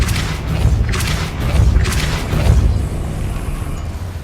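A Depulso spell fired in Hogwarts Legacy, heard as a series of loud, booming thumps with bursts of blast, several impacts over a few seconds with no talking.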